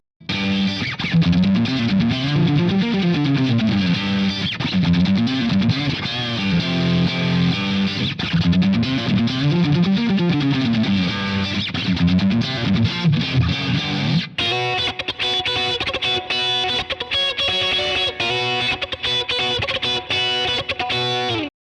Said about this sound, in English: that really kind of pushed single coily tone where you can dig in and it gets kind of splatty